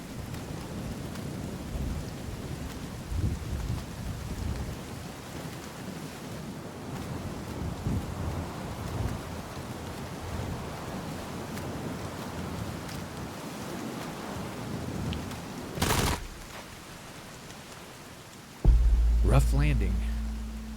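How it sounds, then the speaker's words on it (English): Rain in the survival video game Sons of the Forest, a steady hissing downpour with low rumbling, broken by a brief sharp burst and ending with a louder low-heavy surge. "It started to rain"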